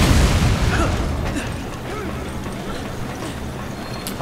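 An explosion in the PC game Resident Evil 5, played with mods, opens as a loud blast and then trails off into a rumbling, crackling decay.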